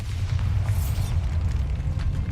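A Bombarda spell explosion in the video game Hogwarts Legacy, heard as a deep rumbling boom with a rising whoosh partway through, continuous low-end roar that fades slowly, loud and close with no talk.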